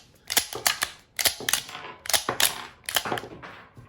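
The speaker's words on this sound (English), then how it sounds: "So then I insert this into the gun, and then I could cycle it." The slide of a SIG Sauer P365 pistol is cycled by hand in four sharp, close bursts, each a quick pair of metallic clacks with brief gaps between them.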